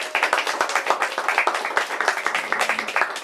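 A crowd at an Indigenous storytelling evening applauds, with quick, sharp handclaps packed together in a lively burst that keeps up steadily from start to finish.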